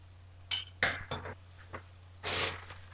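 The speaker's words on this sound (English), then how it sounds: "I'm gonna open my thing of canned sauce real quick" Canned sauce being opened and its lid pried off: a few close, sharp metallic clicks and clanks spaced over a couple of seconds, then a longer scraping rattle, with no talking.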